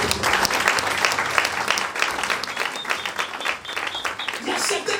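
A church congregation applauds and acclaims the Lord during a sermon: thick, continuous clapping with cheering voices mixed in, loud and sustained for several seconds.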